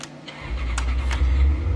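A car engine turns over and settles into a steady low idle rumble in a video game, with faint clicks and taps above it, heard alone.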